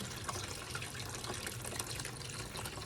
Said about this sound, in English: I'll show you that as soon as all the fluid gets done draining out